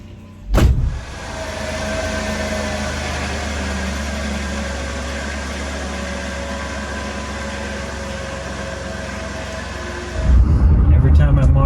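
A vehicle starts off with a sharp thump and then a steady engine drone carries on for about ten seconds as it drives away, ending with a louder rumble and a knock.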